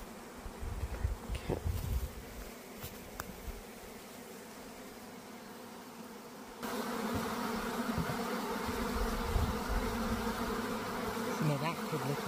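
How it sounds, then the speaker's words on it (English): Honeybees buzzing in front of a hive during orientation flights, a steady swarm-like drone of many insects close by that grows louder and denser partway through, with no voices. "that more looks like orientation flights to me. The one with a bunch of bees out front."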